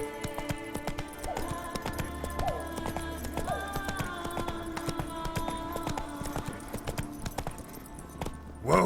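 Roach, the horse from The Witcher 3 video game, gallops with quick, rhythmic hoofbeats over a constant low ambient hum, ending with a brief louder rustle.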